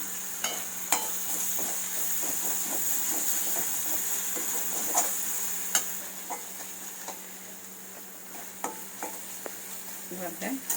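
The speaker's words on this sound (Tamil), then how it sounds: "இது கொஞ்சம் நல்லா கொஞ்சம் வதங்கிட்டோம், ஏன்னா வெங்காயத்தோட பச்சை வாசனை போகணும்" Onions sauté in a pan for a kurma, a soft background sizzle broken by repeated clicks and scrapes of a spoon stirring against the pan.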